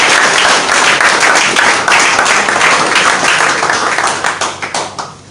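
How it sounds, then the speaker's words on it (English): An audience at a donation handover ceremony for medical items applauds First Lady Fatima Bio with a sustained, dense round of clapping that thins into scattered, separate claps near the end. "Let's give our first lady another round of applause."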